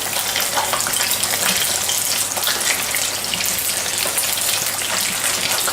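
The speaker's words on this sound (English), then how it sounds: "You just want to fry them until they go nice and crispy." Buffalo chicken wings deep frying in hot oil, a dense, steady crackling sizzle that carries on without a break, loud and close with no voices.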